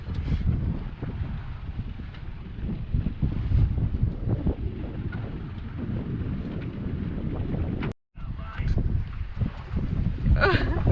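A sailboat is under way in strong wind, with loud wind buffeting and water rushing that stay steady and close throughout.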